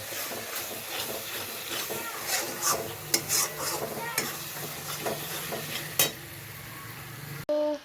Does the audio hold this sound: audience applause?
no